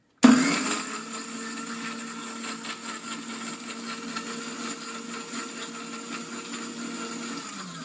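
An electric mixer grinder starts abruptly and whirs at a steady, loud, high pitch while reducing ginger to a paste, running continuously alone for about seven seconds before cutting off.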